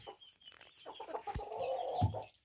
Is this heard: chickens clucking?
yes